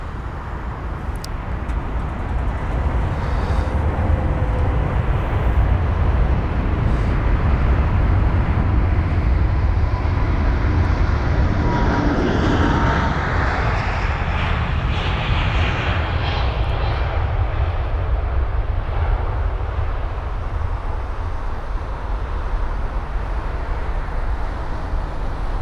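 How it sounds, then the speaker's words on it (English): An Airbus A350 airliner lands at London Heathrow, its jet engines roaring loudly and continuously overhead and then fading slightly as it passes and rolls away. "There goes the A350,"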